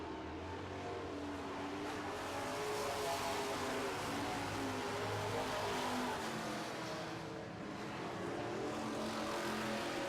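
Super trucks race around a short track during a heat, engines droning and roaring together in a loud, continuous wash that rises and falls slightly as they pass, with no talk.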